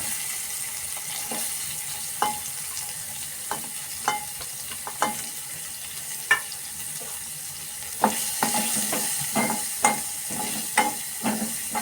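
Onion frying in a pan for a suran (elephant foot yam) dish, a soft steady sizzle with sharp spoon clicks and scrapes against the pan at irregular intervals, close by and without speech.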